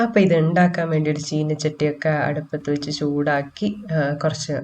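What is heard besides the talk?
No everyday noises stand out.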